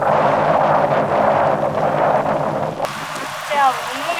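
Heavy rain pours steadily during a cycling ride, a dense close hiss with wind buffeting, and then it abruptly thins to softer drizzle near the end.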